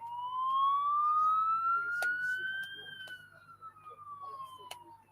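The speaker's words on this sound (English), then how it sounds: "Sirens going off here somewhere." A siren wails in the distance during a baseball game, its tone rising and then slowly falling, with faint background crowd noise and a few sharp knocks.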